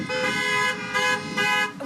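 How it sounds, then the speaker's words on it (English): A line of cars in a parade sounds long, loud horn blasts in a few sustained bursts with short gaps between them, close by and with no talk. "When I started to hear the honks, I'm like, wait a second, they're all coming together"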